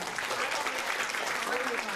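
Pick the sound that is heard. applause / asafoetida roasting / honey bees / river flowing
applause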